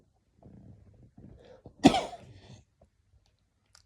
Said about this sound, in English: still got the cough, still getting over it.